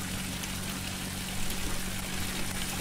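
Continuous flowing water from palace fountains and small streams in the My Burning Heart game, a steady splashing, trickling wash at even loudness with no voices.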